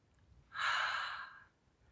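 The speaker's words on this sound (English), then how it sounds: "Inhale, exhale." A single slow, breathy exhale during an exercise routine, soft and close, rising quickly and fading over about a second against quiet background.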